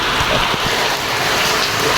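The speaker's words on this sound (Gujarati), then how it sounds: "જબરો હસી દરનો વરસાદ ચાલુ થઈ ગયો દેખો" Heavy rain pours down in a steady, dense hiss, with a few duller thuds of drops hitting nearby surfaces.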